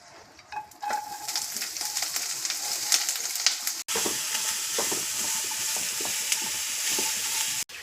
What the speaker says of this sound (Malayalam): ഇനി നമുക്ക് സവാള ഒന്ന് ചെറുതായി ഈ ബാക്കി ഒന്ന് ഓയിലൊന്ന് വഴറ്റിയെടുക്കാം.